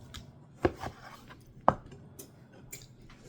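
A knife cuts a vegetable into chunks for a chunky salad, with two crisp thuds against the board and several lighter taps between them, close and clear with no talking.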